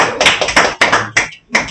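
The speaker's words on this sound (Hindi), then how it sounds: "जोरदार ताली बजाओ भाई" A classroom of commerce students bursts into loud clapping and tapping in uneven waves, with a brief lull near the end before another burst. No one speaks.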